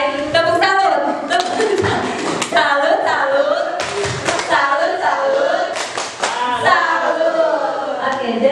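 A group at a school teacher-training session performs the tepuk salut clapping routine: a few sharp hand claps land between loud, sing-song chanting voices that fill most of the stretch.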